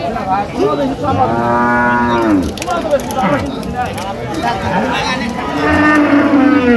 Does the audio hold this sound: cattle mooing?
yes